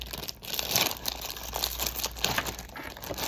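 Packaging of a Labubu blind box crinkles and tears as it is opened up close, a continuous dense rustle of plastic or foil with small crackling peaks throughout.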